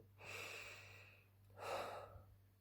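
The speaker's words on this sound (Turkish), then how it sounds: "Öncelikle derin bir nefes alıp verelim." Two deep breaths during a guided breathing exercise: a long airy inhalation followed by a fuller, louder exhalation, close and alone against a faint steady hum.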